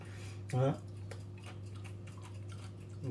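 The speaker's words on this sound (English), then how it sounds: "Possibly can hear that little crunch." Someone bites into a dry, crunchy almond and sesame seed cracker, giving one short, close crunch over a steady low hum, with faint clicks afterward.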